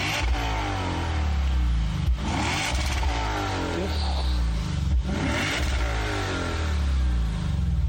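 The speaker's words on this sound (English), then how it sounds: "now I propose to listen to the sound of a 5-liter atmospheric exhaust from Lexus" A Lexus 5-litre naturally aspirated engine revs through its exhaust, a loud, steady, close-up roar with several rises and dips in pitch.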